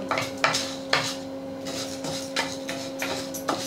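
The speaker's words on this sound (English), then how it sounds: "she is roasting the Toor Dal in the spoon of oil" Toor dal is roasted in a spoonful of oil in a pan. The lentils sizzle and rustle steadily, broken by a handful of sharp clinks and scrapes of a spoon against the metal, and a faint steady hum runs underneath.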